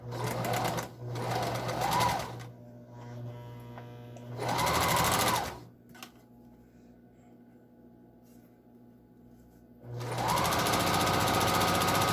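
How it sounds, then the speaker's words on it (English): Sewing machine stitching an N95 mask liner to fabric, faces together: three loud, steady runs of whirring stitches separated by quiet pauses, close by, the last run continuing to the end. "I'm going to take my liner and sew it with the fabric faces together."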